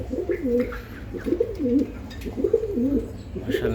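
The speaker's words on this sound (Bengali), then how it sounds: "স্ক্রিনে যে কবুতরটা দেখতেছেন" A pigeon of a racing breed coos up close in repeated throaty, rolling phrases, about one every second, with faint background noise and no speech.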